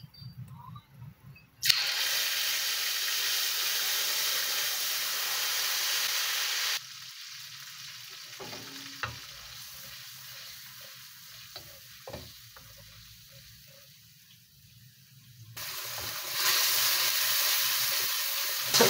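Chili paste and lemongrass are stirred into shallow hot oil after fish has been fried, giving loud bursts of sizzling and frying with a quieter stretch of low bubbling in between.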